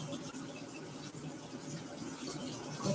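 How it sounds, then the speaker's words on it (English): Water runs from a kitchen tap into a container, a steady, close gushing stream with a faint low rumble beneath, lasting the whole few seconds without speech. "Let's pour some water in."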